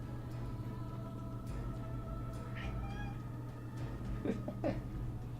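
A vocal pet cat meows repeatedly and insistently indoors, several drawn-out calls over a steady low background hum, with no talking.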